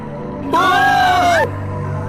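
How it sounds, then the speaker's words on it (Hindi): Cartoon characters let out a loud group scream on finding a severed hand in a haunted-house cartoon, a sustained wavering cry of about a second rising abruptly over a low background hum, then cutting off. "सभी कटा हाथ देखकर चीख पड़े"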